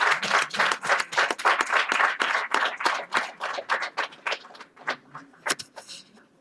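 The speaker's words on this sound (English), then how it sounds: "A big applause to our." An audience at a film discussion applauds with dense, lively clapping that gradually thins out into scattered claps.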